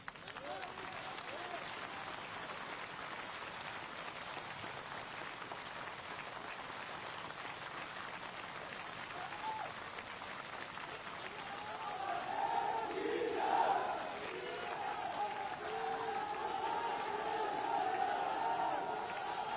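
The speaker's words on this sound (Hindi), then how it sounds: "ऐसे नहीं आशीर्वाद तालियों से ही समझ में आएगा कितना मिल रहा है" A crowd at a public rally in Sumawali, Morena district, keeps up sustained applause and cheering, heard from a distance, swelling with louder shouts toward the end.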